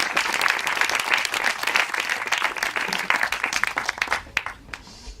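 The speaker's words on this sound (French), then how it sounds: "Je crois qu'on peut vous applaudir." Sustained audience applause at a conference session, many hands clapping in a dense, steady patter that carries on for several seconds before thinning out and fading near the end, with no talk over it.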